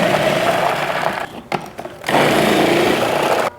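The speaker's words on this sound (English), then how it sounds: "what I prefer to do is to use my food processor and shred it" A food processor shreds cabbage for homemade sauerkraut, a loud continuous whirring, grinding motor roar that cuts out briefly a few times before running on steadily.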